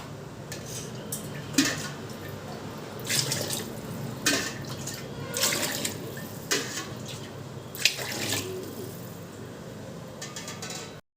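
Water pours and splashes into a metal pot for coconut biryani, with clanks of utensils, steady and close.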